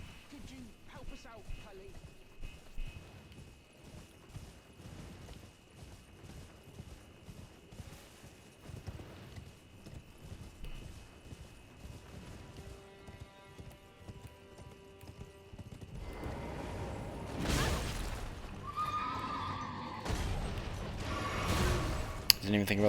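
Hoofbeats clip-clop in a steady galloping rhythm from a horse and rider in the Elden Ring video game, with clanking mechanical effects and a swell of louder combat sound near the end, while a player talks over it.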